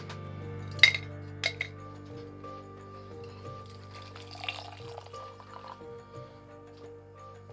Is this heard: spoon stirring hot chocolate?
yes